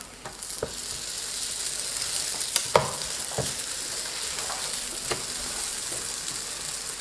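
A scallion pancake fries in a covered pan, giving a steady, close sizzle with a few sharp pops and clicks scattered through it.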